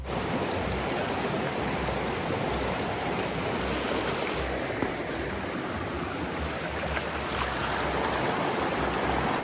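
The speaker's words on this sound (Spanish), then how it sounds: "tenía tiempo sin sumergirme medio cuerpo en un río" River water rushes around a person wading waist-deep in a river in Portuguesa, Venezuela, a loud, close and continuous broadband flow with no speech.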